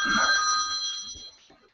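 A phone rings indoors in a steady electronic bell-like tone, loud at first and fading over under two seconds, with faint background noise.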